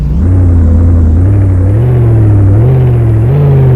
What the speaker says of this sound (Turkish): Gerçekten araba efsane bir şekilde kükrüyor.